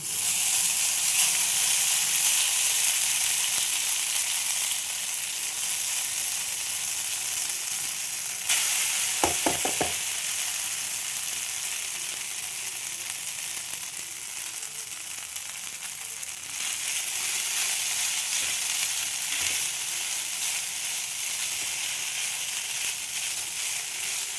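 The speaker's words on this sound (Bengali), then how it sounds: "সিমইটা একটু এই ঘিয়ের সাথে ভেজে নেব।" Vermicelli frying in ghee over low heat, a steady close sizzling hiss with occasional stirring scrapes and a brief clatter midway, continuing without any talk.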